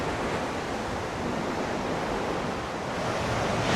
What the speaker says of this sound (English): it's years and years and years and years of waves crashing through has just made a big hole in the rock